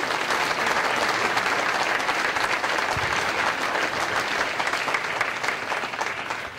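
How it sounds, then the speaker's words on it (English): Audience applauding a volunteer at a magic performance during a lung function event, a dense, steady burst of clapping from a full crowd that holds strong and tapers slightly at the end. "How about a nice round of applause for Nikki?"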